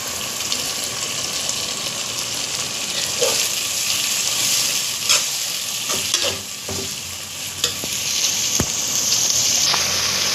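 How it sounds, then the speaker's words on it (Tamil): Tomatoes sauté in an oily pan for a Tamil fish curry, giving a steady broadband sizzle with scattered stirring scrapes and clicks throughout, close and continuous with no talking. "இப்போ தக்காளி போட்டு வதக்கிக்கணும்."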